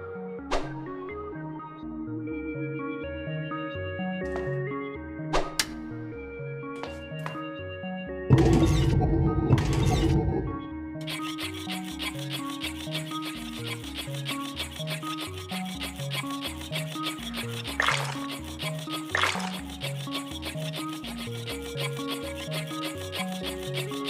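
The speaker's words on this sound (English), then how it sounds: "let's see if these bellows full of water might put out that fire" Bellows spraying water onto a fire in a cartoon adventure game, a brief loud rushing hiss for about two seconds over a steady tinkling musical background.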